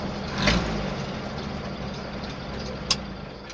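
A warm engine fitted with a K126GU carburetor idles steadily, a low continuous rumble close by with one brief sharp click near the end and no voices.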